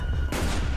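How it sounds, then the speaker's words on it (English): Gunfire in the video game Call of Duty: Black Ops: a loud, close burst of shots that cuts in abruptly over a brief stretch of dense game noise, with no voices. "Where am I getting shot from?"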